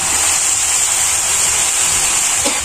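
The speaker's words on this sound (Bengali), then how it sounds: "হুট করে আবার বৃষ্টি আইছে, আবার কারেন্টও চলে গেছে।" Sudden rain falls in a village, a loud, even hiss of downpour that holds steady and close with no voices.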